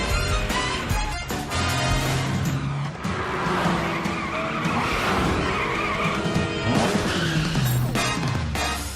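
Cartoon cat car from PJ Masks skidding, with loud tire squeals, screeching slides and a crash-like hit, continuous and busy across the whole stretch, with no talking.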